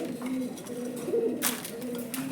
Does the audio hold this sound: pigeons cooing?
yes